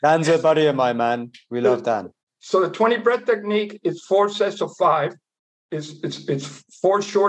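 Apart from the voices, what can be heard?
No everyday noises stand out.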